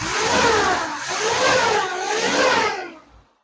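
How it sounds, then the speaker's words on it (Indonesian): A Suzuki Jimny Katana engine runs after radiator repair for overheating, a smooth steady mid-pitched hum that swells slightly twice, close and fairly loud, then cuts off abruptly near the end. "Cuma kalau dengar suara mesin gini empuk lur."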